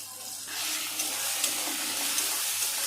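Meat masala and tomato sizzle and fry in a pan for homemade chowmein, a steady broadband hiss that rises and holds after a brief quieter start, close and continuous with no talking.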